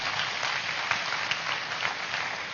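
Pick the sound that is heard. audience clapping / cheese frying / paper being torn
audience clapping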